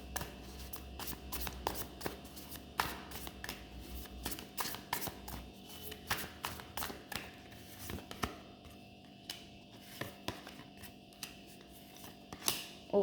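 Tarot cards being shuffled and drawn by hand, a quiet run of soft riffling flicks and crisp card snaps, close up and without talk.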